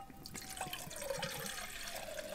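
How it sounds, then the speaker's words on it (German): Water pours from a Miltec canteen into a cooking pot over a camping gas stove, a steady close splashing gurgle whose pitch rises as the pot fills. "Das können wir hier dann gleich mal reinfüllen."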